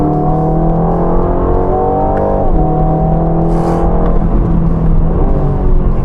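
An Aston Martin Vantage sports car engine revs and accelerates close by, a loud, rich, continuous growl rising and shifting in pitch through gear changes, with no talk.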